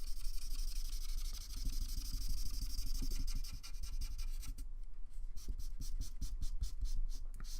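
Markers drawing on sketch paper, steady close scratching and rubbing strokes with a rhythmic run of short repeated strokes toward the end, alone without talk.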